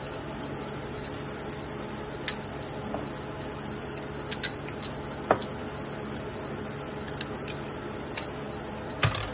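Oil sizzles in a hot frying pan as a seasoning base is sautéed, a soft steady hiss broken by scattered small pops and crackles, heard close and alone with no talking.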